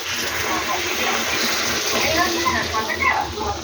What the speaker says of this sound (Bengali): এবার একটু জল ঠেলে দেবো, গরম জল বসিয়েছি